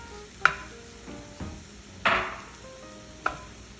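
Scallions go into a hot wok for Singapore mei fun, with a low sizzle underneath and three sharp utensil clacks against the pan spaced apart, close by and without speech.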